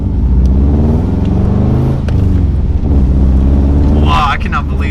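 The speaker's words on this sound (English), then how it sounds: "I cannot believe that exhaust tone" Subaru GC8 with a test pipe fitted to its exhaust, a loud, close, deep rumbling exhaust note swelling as the engine revs, with people talking over it.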